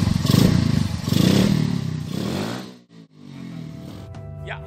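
A Yamaha Byson motorcycle built in BMW R9T custom style runs close by with a loud, throbbing engine that swells and dips, cuts out briefly, then settles into a steady idle.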